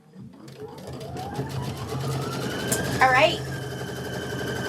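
An embroidery machine stitching out a quilt block with a steady, fast, close mechanical whir that rises in pitch as it speeds up; someone speaks briefly over it.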